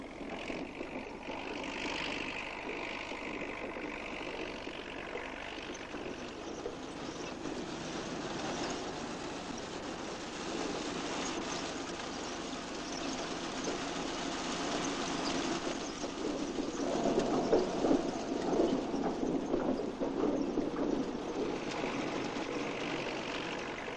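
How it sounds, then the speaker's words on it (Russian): Semi-mounted combine harvesting late cabbage while loading onto transport vehicles, a steady droning engine and mechanical rumble throughout, swelling somewhat louder toward the end, recorded at a distance. "Уборка позднеспелых сортов капусты проводится полунавесным комбайном с одновременной погрузкой в транспортные средства."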